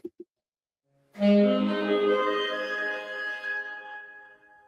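A pair of quick taps, then a sustained ringing tone with rich overtones that lingers and slowly fades in a reverberant room.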